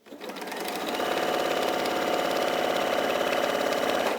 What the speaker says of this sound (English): And we'll sew straight across.